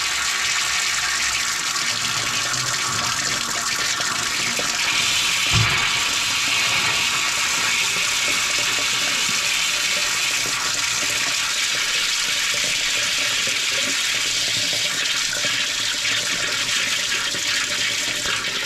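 Water rushes steadily from a tap on old household plumbing, a loud continuous broadband hiss lasting throughout with a brief knock partway through.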